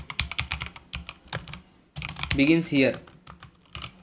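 Rapid clicking of a computer keyboard as Dart for-loop code is typed, keystrokes in quick uneven bursts with a short pause midway, close and clear, with someone briefly speaking over the typing.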